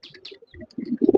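Soft, scattered cooing from fancy pigeons at a pigeon farm, quiet at first and then building into a louder run of low coos near the end.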